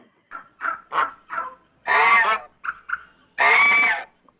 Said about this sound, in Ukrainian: гусочка